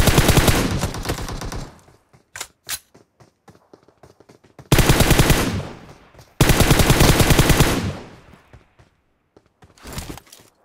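Automatic gunfire in the mobile shooter BGMI (PUBG Mobile): loud, close bursts of rapid shots, separated by quiet stretches with a few isolated single shots.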